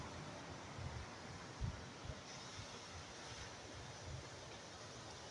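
Waves wash onto the Jeju Island coast in South Korea under a steady rush of wind, with soft low surges and faint distant surf and no voices.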